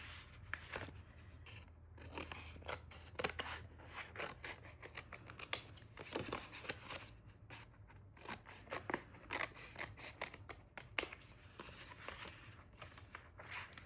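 Scissors snipping paper cut from pamphlets and magazines for an art journal, a long run of quick, close, crisp cuts in an uneven rhythm, with no talking.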